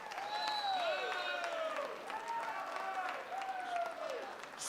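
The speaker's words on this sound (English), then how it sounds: "Another round of applause for these two wonderful gentlemen that captain their squads." Audience applause at a cross-border darts challenge event, steady and dense throughout, with whistle-like calls riding over the clapping.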